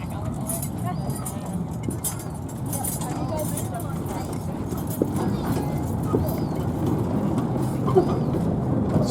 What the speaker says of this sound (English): the famous Victor Harbour horse and carriage going across the causeway.